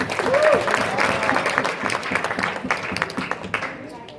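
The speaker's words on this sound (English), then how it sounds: "Please give it another round of applause for the regional manager." A round of applause at a regional event, a crowd clapping loudly with some voices and a brief whoop mixed in, gradually thinning out toward the close.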